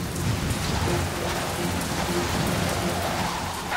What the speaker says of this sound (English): Oh my gosh, look at this rain.